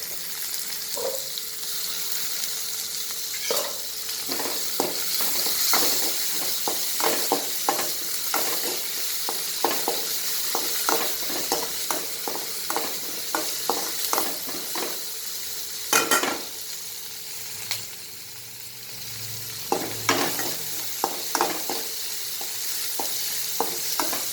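Ivy gourd and tomato sautéing in a pan for an Uttar Karnataka style tonde kayi palle: a soft continuous sizzle broken by repeated clicking scrapes of a spoon stirring against the pan, close and fairly quiet.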